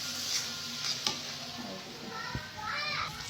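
Ginger-garlic paste, cumin paste and spices frying in a pot for biryani give a steady sizzle, with a few sharp clinks from a stirring spoon and children's voices and chatter nearby.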